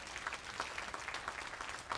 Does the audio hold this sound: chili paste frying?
no